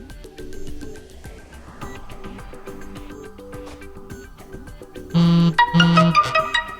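A Discord message notification plays on a phone as a short, loud, bright chime of a few tonal notes, following quieter background music.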